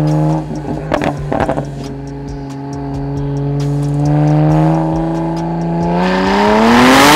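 A BMW 335i E92 coupe fitted with a 2JZ engine, around 410 hp, idles, then revs up with a rising exhaust note that grows loud near the end, a few pops and crackles early on.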